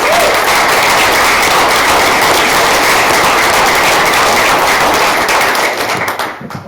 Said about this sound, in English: Please join me in a round of applause for Mr. David Fullerton.